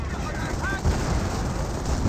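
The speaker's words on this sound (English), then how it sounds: "Now got a close range Calliope barrage there." Close-range Calliope rocket barrage in the World War II strategy game Company of Heroes, a dense rolling rumble of rapid blasts and crackling impacts that stays loud throughout and swells again near the end.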